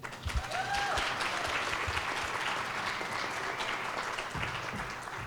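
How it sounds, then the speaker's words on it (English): An audience at a symposium panel session applauds steadily for about five seconds, with dense clapping that holds at an even level throughout and a few low thumps near the microphone. "please, a round of applause, yes."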